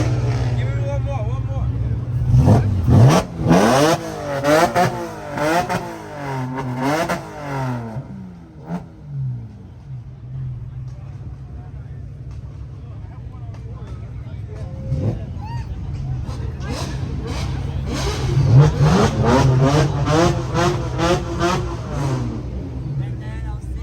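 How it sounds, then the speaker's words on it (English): An exotic supercar with a titanium exhaust revs repeatedly at a Florida car meet, with rising and falling engine sweeps under a crowd's steady chatter. "It has titanium exhaust."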